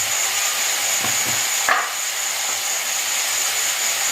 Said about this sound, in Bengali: পেঁয়াজ আর চিকেন একসাথে ভাজা।